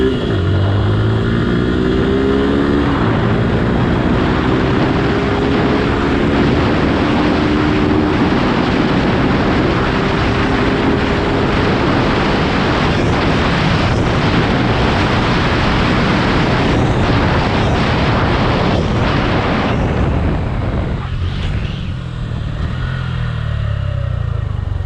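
Suzuki Gixxer SF motorcycle revving hard through the gears, engine pitch climbing and dropping repeatedly, loud and close for about twenty seconds, exhaust crackles and pops scattered through, tapering slightly at the end.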